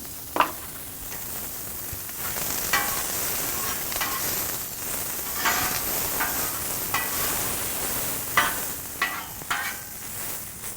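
Roughly cut brown onions fry in oil on a Blackstone griddle with a steady sizzle. Scrapes and spatula clacks, some of them sharp, break in at intervals.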